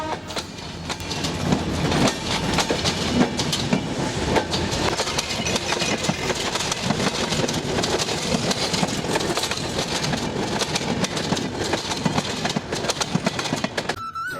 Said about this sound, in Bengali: ট্রেনের এই ঝকঝক শব্দ আমার সত্যি ভালো লাগে